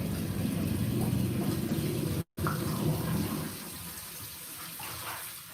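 Tap water running steadily into a sink while dirty, sandy greens are rinsed, a continuous close wash that briefly cuts out and then resumes a little softer.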